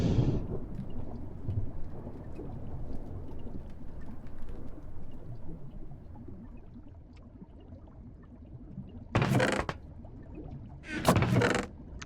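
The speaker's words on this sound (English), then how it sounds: "why is it thundering in my box?" Rolling thunder rumbles under a steady rain-like wash in a video game set in a compact enclosed box, with two loud broadband cracks near the end, each lasting under a second.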